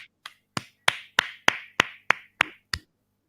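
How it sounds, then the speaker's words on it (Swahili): Applause at a Swahili couples' talk-show gathering: about ten sharp, evenly spaced claps, close and fairly loud, in a steady slow rhythm with no talking. "Makofi kwake."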